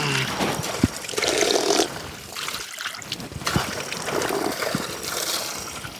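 Steady stream of spring water flowing through a pipe at a deep underground hermitage in Chitrakoot, a continuous watery trickle and splash heard close, fluctuating slightly in level throughout with no talking.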